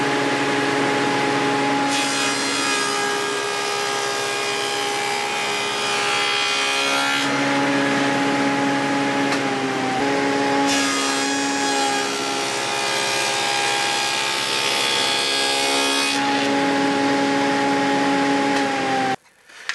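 A table saw cuts a tapered wooden leg with a loud, steady whine that stays nearly constant, with the pitch dipping slightly while the blade bites through the wood, close and alone before the motor cuts off at the end.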